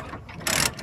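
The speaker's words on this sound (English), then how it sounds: "And then start ratcheting them down." A ratchet strap being cranked down to secure a mini excavator on a tilt deck trailer, a short burst of rapid mechanical clicking that swells loud at the midpoint and then stops.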